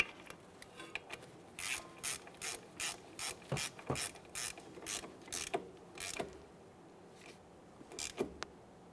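A ratchet tightens a brake banjo bolt on the front caliper of a 2014-2018 Mazda 3 during a flex hose replacement, giving a close series of rapid clicking bursts in a regular rhythm, then a few isolated clicks.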